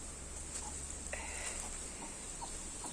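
Chickens on a farm cluck softly in short, scattered calls over a steady background hiss, faint and somewhat distant.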